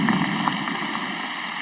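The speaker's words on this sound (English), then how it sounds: "here comes the rain" Steady rain falls outdoors, a dense, even hiss of drops that holds at a constant level throughout, with no voices.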